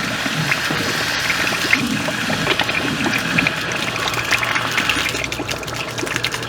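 City water supply rushing back on after a shutoff, a continuous loud gushing and splattering flow with bursts of spray, close and steady with no clear talk.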